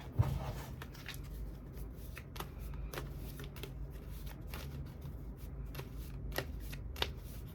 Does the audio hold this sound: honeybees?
no